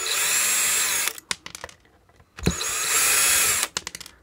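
Power tool driving screws out of an 80 kW digital power saver unit, with two sustained high-pitched whirring runs broken by short clicks and bursts, close and loud with no talk.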